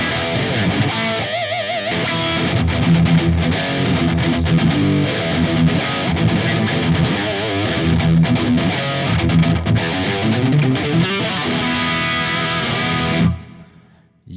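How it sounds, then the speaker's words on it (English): Distorted electric guitar through a Mesa JPIIC-based preset with only plate reverb, played loud and continuously with chords and notes ringing for about thirteen seconds before stopping abruptly. "This is a really simple distortion sound without anything. There is only a reverb. It's a plate reverb, very simple."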